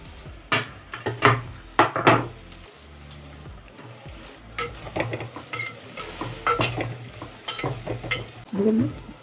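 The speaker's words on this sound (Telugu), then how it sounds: "పచ్చిమిరపకాయలు వేసేస్తున్నాను, అన్నీ కలిపి వేసేస్తాను" Green chillies and onion fry in a pan for a sandhuva fish curry, with bursts of sizzling and repeated scraping stirs in an uneven rhythm, close by and moderately loud, without talking.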